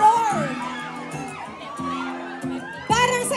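A crowd of fans at a horror movie premiere screams and shrieks in bursts, with loud cheering peaks at the start and end, mixed with a speaker's voice over the noise.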